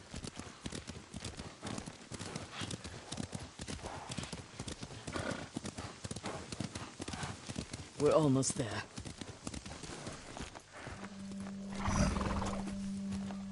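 Horses walking with steady clip-clop hoofbeats in the video game Ghost of Tsushima, a neigh rising partway through, while a voice speaks over the soundtrack.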